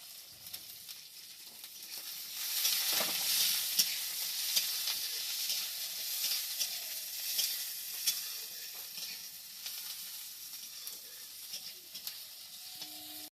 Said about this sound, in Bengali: তেলটা গরম হয়ে গেছে, এবারে দিয়ে দেব পেঁয়াজ, আদা, রসুন, কাঁচা লঙ্কা, দিয়ে দেবো কাজু বাদাম